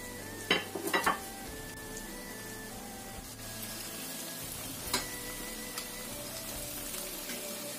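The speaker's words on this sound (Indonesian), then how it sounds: "Goreng semua sisa tempenya." Tempeh frying in hot oil in a home kitchen, with a low steady sizzle under a few sharp clinks of utensils against the pan near the start and again midway.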